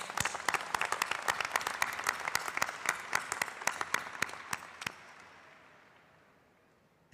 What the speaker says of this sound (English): Another round of applause for Kaylee.